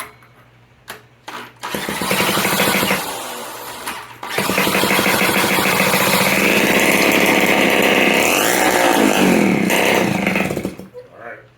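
A 1982 Honda Urban Express Deluxe scooter's small engine catches after a few sputters, stalls briefly, then restarts and holds a loud, buzzing idle that runs much too high, steady and close for several seconds before cutting off.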